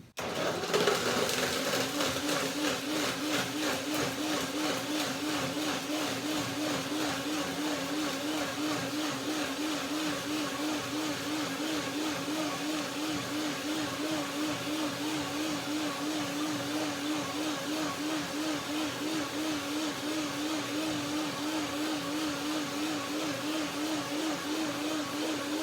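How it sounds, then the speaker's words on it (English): A countertop blender whirs continuously while blending dates, water and cashew cream, a loud steady motor whine with a slight wobbling pulse that runs without pause from start to finish. "And the first blender dance."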